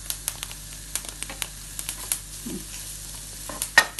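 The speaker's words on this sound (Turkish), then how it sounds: "Közlüyorum biber de közlüyorum" Steady sizzling from a hot pan with scattered crackles and pops, peppers roasting on their own with no voices.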